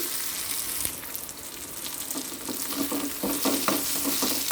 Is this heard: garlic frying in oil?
yes